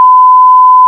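A censor bleep masks a spoken word, one loud, steady electronic tone lasting close to a second and then cutting off abruptly, with nothing else audible.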